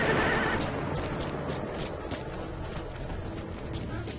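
Horse hooves clip-clopping in Metal Gear Solid 5, a steady rhythmic trot of hoofbeats with a short whinny at the start, moderately loud over a game ambience, no talking.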